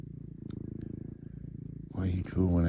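A cat purrs close up in a steady rhythmic rumble, then a person starts speaking over it.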